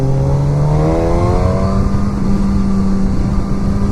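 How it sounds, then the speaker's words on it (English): A 2016 Suzuki GSX-S1000 ABS sportbike engine revs loudly and close, its pitch climbing through a smooth sweep before settling into a steady, throaty drone. "God, this bike sounds so cool."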